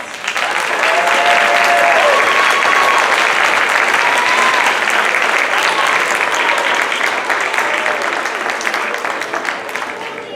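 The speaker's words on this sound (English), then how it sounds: "So let's give them a round of applause." Steady, loud applause from an audience at an elementary school awards ceremony, dense continuous clapping with a few cheers and voices over it, sustained throughout.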